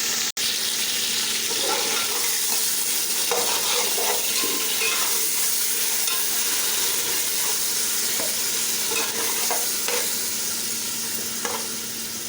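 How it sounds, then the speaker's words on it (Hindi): A spoon stirs beef pulao with yogurt in a pot, giving a steady wet sizzling and scraping texture that runs continuously and close with no talk. "फिर हम इसको अच्छे तरीके से चम्मच के साथ हिला लेंगे।"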